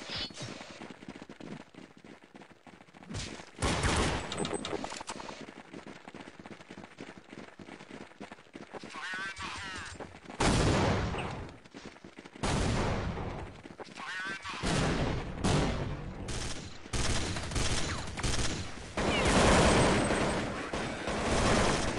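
Gunfire in Counter-Strike 1.6 crackles in repeated bursts and rapid volleys, loud and close, with brief gaps between firefights, while voices talk intermittently over the shooting.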